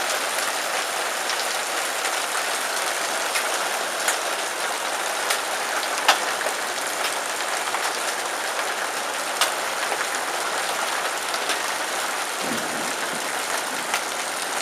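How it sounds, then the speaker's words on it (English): Heavy rain beats steadily on a surface during a storm, loud and continuous throughout, with sharp scattered impacts from very large drops or hail standing out above the dense hiss. "Either those raindrops are really big, or that's hail."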